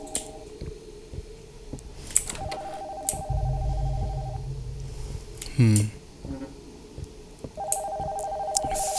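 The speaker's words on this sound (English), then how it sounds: "The phone from upstairs is ringing." In the horror video game Nocturnal Visit, a telephone rings from upstairs in a house, steady electronic tones repeating between pauses and heard beneath a low game drone, clicks and a brief squelch.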